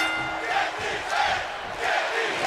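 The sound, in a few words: crowd chanting in WWE 2K video game arena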